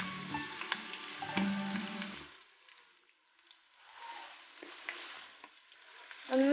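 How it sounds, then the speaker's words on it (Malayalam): Thinly sliced onions, three large ones, hit hot coconut oil and sizzle loudly at first, then settle into a softer, steady frying hiss with a few stirring scrapes. "എണ്ണ ചൂടായിട്ട് നമുക്ക് ഒനിയൻ ഇട്ട് കൊടുക്കാം"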